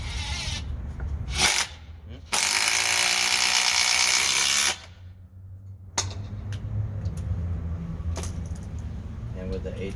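A DeWalt impact driver (DCF887, DCF850 or DCF801 class) driving lag bolts, giving loud sustained bursts of rapid hammering, the longest lasting about two seconds, with shorter clattering bursts around it and steady workshop noise underneath.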